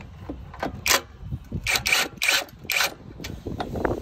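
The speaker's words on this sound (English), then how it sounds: "you get your 10 socket and you go for this bolt here" Ratchet with a 10 mm socket working a bolt loose on a Wilks TX750 unit, giving a series of close, crisp clicking strokes in uneven bursts, with no talk.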